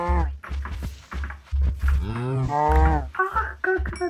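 Cows moo in the video game Minecraft, several long, low, pitch-bending calls near and loud, broken up by short thumping game sounds.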